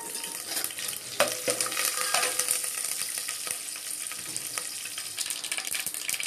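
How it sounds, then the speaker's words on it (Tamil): Mustard seeds and curry leaves spluttering in hot oil, a dense crackling sizzle with sharp pops and a stirring scrape or two, close and continuous. "இந்த அளவு கடுகு கருவேப்பிலை பொரிஞ்சதுக்கப்புறம்"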